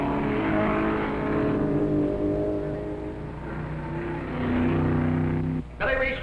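A 1960 race car at Meadowdale Raceway, Illinois, slowing as it pulls into the pits, its steady engine drone close and loud throughout with a race announcer talking over it, then a brief drop and a fresh burst near the end.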